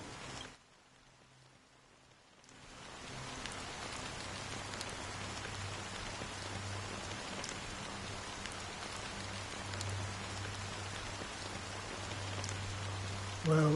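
Steady rain pours in the video game Honkai: Star Rail. After two quiet seconds a dense, even patter of drops sets in and holds at a moderate level over a soft low hum, with no voices.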